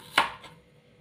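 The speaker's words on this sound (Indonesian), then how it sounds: "untuk bumbunya, yang pertama kita potong ada bawang merah" A knife cuts through a shallot on a cutting board, giving one crisp, close chop followed by a fainter second tap. No voices are heard.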